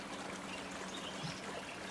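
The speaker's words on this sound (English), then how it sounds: "Here we're crossing Mineral Creek, and the falls are up to the left there." Mineral Creek rushes beside the Hoh River Trail, its stream and nearby waterfall making a steady, full broadband wash of flowing water throughout, with no voices.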